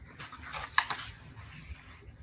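Dogs pant and play near a sewing session, giving soft breathy panting and light rustling with one brief sharper squeak or yelp in the middle, fairly faint and close, with no talk.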